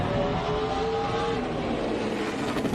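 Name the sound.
NASCAR race car engine revving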